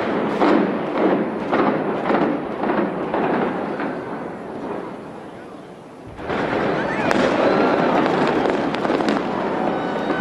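Explosive demolition of a building, a rapid series of sharp cracks and thumps first, then after a brief lull a heavy, dense rumble of blasts that continues, loud and somewhat distant.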